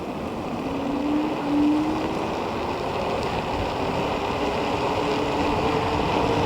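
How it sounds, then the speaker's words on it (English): An Ausom Gallop electric scooter pulls away at its maximum acceleration setting, a faint motor whine climbing in pitch under heavy, steady wind rush across the microphone. "now we're gonna go ahead and test the Ausom Gallop in maximum acceleration settings"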